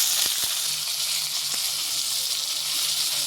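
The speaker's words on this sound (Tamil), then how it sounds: "இப்போ தக்காளி ஆட் பண்ணிக்கலாம்." Tomatoes sizzle in a hot pan over browned fried onions, a steady bright hiss close up with a few sharp crackles and pops early on, and no talking.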